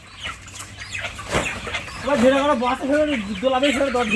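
Chickens cluck and murmur on a poultry farm of colour bird hens, a rising run of repeated clucks growing louder near the end while a person talks nearby.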